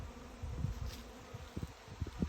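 A swarm of bees flying near an apiary in August gives a low, steady buzzing hum, moderately faint and somewhat distant, with occasional louder passes as individual bees fly closer.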